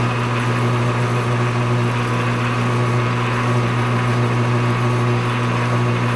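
A drill running at 200 RPM bores into a custom shock bolt for a race car, giving a steady, continuous motor hum with strong low tones that holds evenly throughout.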